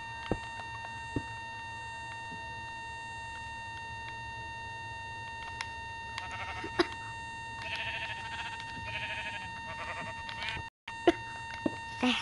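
Sheep bleating in a video game, a few brief wavering bleats midway and near the end, faint under a steady background hum and scattered clicks.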